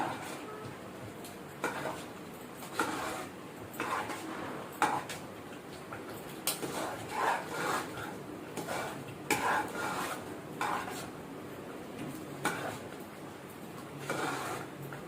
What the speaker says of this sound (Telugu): ఇదంతా మనం ఒక్కసారి గరిటతో కలుపుకోవాలి.